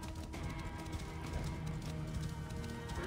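A horse gallops in Assassin's Creed Origins with a steady, quick beat of hooves, faint and continuous under a wash of background noise, with no one talking.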